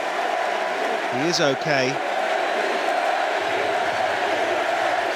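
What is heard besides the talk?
crowd cheering at Eddie Hall's deadlift record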